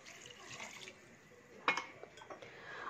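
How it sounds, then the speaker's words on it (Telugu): Water being poured into rice in a pot for broccoli paneer biryani, a soft, quiet pouring and splashing with a sharp utensil clink midway, heard alone without talk. "అలా వాటర్ యాడ్ చేసుకుని బాగా మిక్స్ చేసుకోండి"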